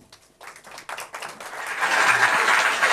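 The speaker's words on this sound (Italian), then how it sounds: "un applauso" Applause for Mary Fabbricino on a SEI TV charity broadcast, starting as scattered claps and swelling into steady, fuller clapping over a few seconds.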